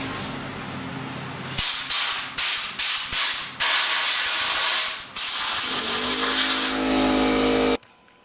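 Short bursts of compressed air blow dust off a freshly turned wooden piece on a lathe, several quick puffs followed by a long continuous hiss, loud and close, then cutting off sharply.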